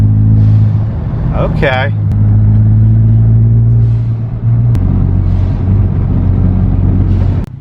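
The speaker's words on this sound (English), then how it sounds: "Let's hear this blow-off valve." A Ford F-150 EcoBoost pickup's engine revs with its blow-off valve, heard up close as a steady loud rumble broken by a few brief surges and airy releases; someone speaks briefly over it.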